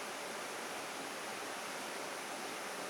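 A river rushes past a shady sandbar in a steady, loud wash of broadband water noise that stays unbroken and even throughout.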